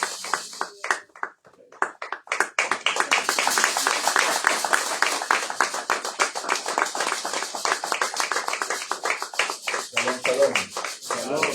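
A church congregation claps for pastor Emmanuel Mbomba during a special worship service, a dense, sustained round of applause that builds after a brief start and keeps going steadily, with voices mixed in.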